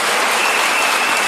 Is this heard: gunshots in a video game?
no